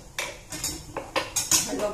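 A spoon clinks against a pan while ghee is added for halwa: four or five quick, close metallic taps and scrapes in an uneven rhythm.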